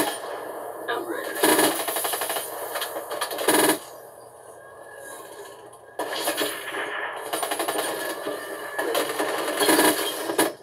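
Rapid automatic gunfire from the video game Call of Duty Black Ops 3, loud sustained bursts broken by brief pauses, with a voice talking over the game sounds.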